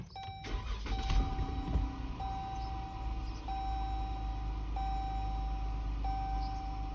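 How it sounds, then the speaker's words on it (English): A 2014 Jeep Grand Cherokee engine cranks and catches at the start, then idles steadily while a chime beeps at regular intervals, close and moderately loud. "Start the car."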